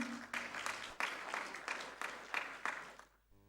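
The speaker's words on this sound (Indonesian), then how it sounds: "Tepuk tangan buat Anda semuanya." Audience applause at a corporate customer-service awards event, a steady burst of clapping from a hall crowd lasting about three seconds before fading out.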